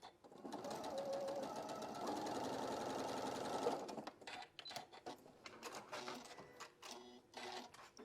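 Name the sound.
sewing machine running a single stitch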